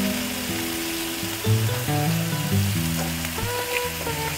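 Grated coconut and shrimp sizzle steadily in a hot pan, a continuous close frying hiss with no voices.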